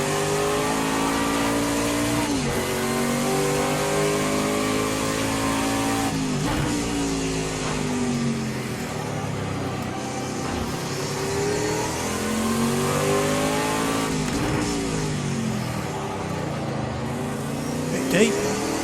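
Prototype race car engine in Project CARS 2, revving hard and loud through repeated rising sweeps, with each climb cut off by a gear change roughly every few seconds and the pitch dropping before it builds again.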